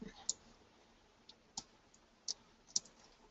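Several faint, sharp computer mouse clicks while working in drawing software, spaced irregularly over a quiet background.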